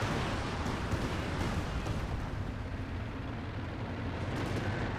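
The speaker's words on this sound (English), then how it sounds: "Panzer Warfare barrage right on in." An artillery barrage in the video game Company of Heroes 2 produces a dense, continuous rumble of explosions, heavy and unbroken throughout.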